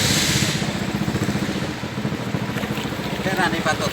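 Motor boat engine running on a river between Thanchi and Remakri, a steady rhythmic low throb with broadband wind and water noise, with voices talking over it.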